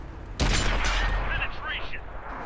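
A Tiger 1 tank's cannon fires once in World of Tanks, a sudden loud blast whose roar carries on and slowly decays under game noise, with a voice speaking over it.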